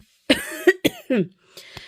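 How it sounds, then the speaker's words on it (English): A few quick, close coughs from a person with a cold in a short cluster, followed by a softer throaty exhale and breathy trailing sounds. "this cold is causing me to cough quite a bit"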